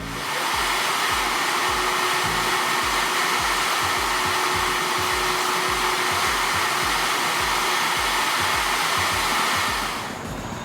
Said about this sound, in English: take one of these soft bristled vacuum cleaner brush attachments and just try to brush over both these radiators